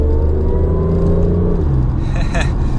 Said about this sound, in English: you can hear the exhaust note coming through the speakers